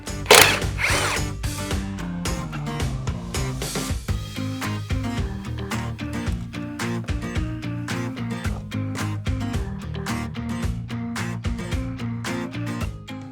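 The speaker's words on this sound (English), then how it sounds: "we're under the hood removing these 2 nuts" A hand ratchet works the strut nuts under the hood of a Mustang, giving rapid clicking pawl bursts close by, repeated in quick strokes with short pauses between them.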